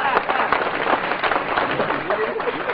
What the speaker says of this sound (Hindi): आप लोग जोरदार तालियां बजा दें